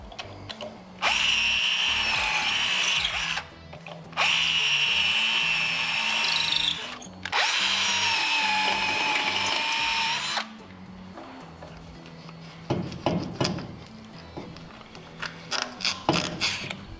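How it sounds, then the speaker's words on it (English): A power drill with a long 1/8 inch bit drilling out a rubber steering rack bushing on a Toyota Tacoma or 4Runner, three loud sustained whining bursts separated by short pauses, then a run of sharp ratcheting clicks. "something like a long 1/8" drill bit works well for this because you don't want to dig too much into the actual metal"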